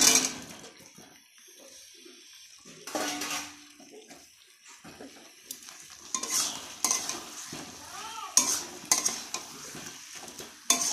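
Fried potatoes with salt and garam masala powder are stirred in a hot pan, giving scraping strokes and bursts of sizzling that come and go, close and fairly loud, with no speech.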